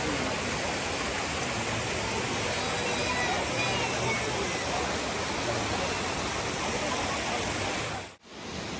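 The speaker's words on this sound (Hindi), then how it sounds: "अब ये देखो मेरे पीछे वाटरफॉल" Dudhsagar Waterfall in Goa gives a steady, dense roar of falling water, loud and constant throughout before cutting off abruptly near the end.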